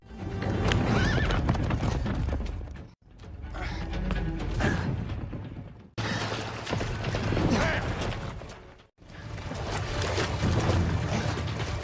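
Horse hooves clip-clop steadily alongside repeated neighs and whinnies in a Vikings drama scene set near a sea cliff, loud and close, in several bursts separated by brief dips.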